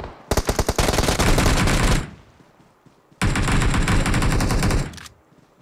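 Two long, loud bursts of rapid automatic gunfire ring out in the mobile battle royale game BGMI, each lasting about two seconds and separated by a short pause, with no talking.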